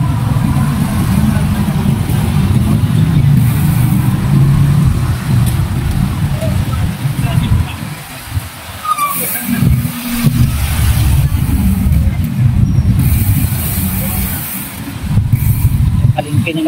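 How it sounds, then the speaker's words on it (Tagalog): Road traffic near a market in Bulacan, a loud, steady rumble of engines and passing vehicles that dips briefly mid-way and resumes, with a voice talking over it. "Traffic."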